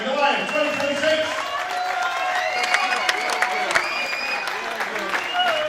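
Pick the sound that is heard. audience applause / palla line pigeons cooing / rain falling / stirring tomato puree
audience applause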